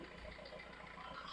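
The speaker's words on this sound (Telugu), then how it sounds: "ఇంజన్ సౌండ్ పర్ఫెక్ట్గా ఉంది" A diesel car engine runs steadily with the bonnet open, giving a continuous low hum and broadband rumble without break. It sounds fairly close and moderately loud, with no clear speech over it.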